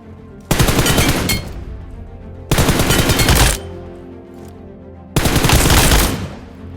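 Automatic gunfire from PUBG in the training grounds, fired from the hip in three long sustained bursts, loud and close, with brief gaps between them.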